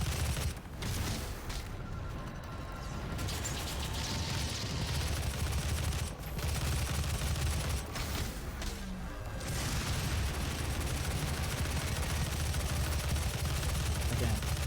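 Dense, sustained gunfire and booming impacts from combat in DOOM (2016), with a machine gun among the weapons, loud and continuous for the whole stretch with brief dips in the noise.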